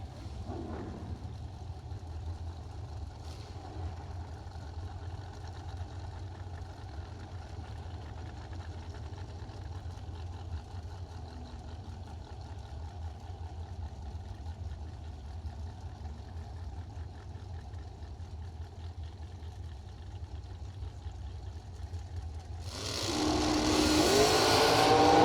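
A 2003 Race Tech drag race car at a drag strip holds a steady, rumbling idle for a long stretch, then bursts into a much louder roar as it accelerates near the end.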